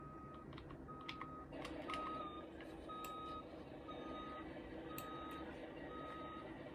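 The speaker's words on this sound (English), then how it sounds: "Sorry about the beeping." A semi truck in the BeamNG driving game emits steady, evenly spaced reversing beeps, about a dozen short tones repeating over a low engine rumble, with no speech.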